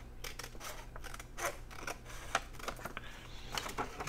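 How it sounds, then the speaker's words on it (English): Scissors cutting paper straight along a fold line while shaping a decorative envelope template. Close, crisp snips come in an irregular series of sharp strokes, with a few louder cuts standing out. "just cut straight up that fold line"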